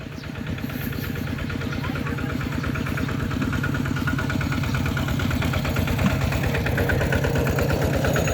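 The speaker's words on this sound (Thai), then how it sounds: "รถไถเข้ามาก็พี่ก็จับมาแล้ว" A tractor engine chugs steadily and loudly close by, a low rhythmic throb that holds without pause throughout.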